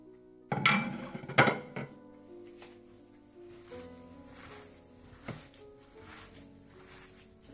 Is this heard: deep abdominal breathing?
no